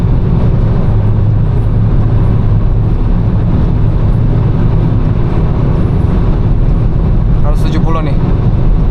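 A car cruising at 160 km/h on a German autobahn, heard from inside as a steady loud roar of road and wind noise with low engine drone; a voice briefly comes in near the end.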